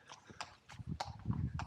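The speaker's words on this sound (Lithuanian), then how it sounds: "Čia arkliuką reikia praleisti." A horse's hooves clip-clop past on a roadside near Eindhoven, Netherlands, a quick, fairly even series of sharp knocks over a low background rumble, close but modest in volume.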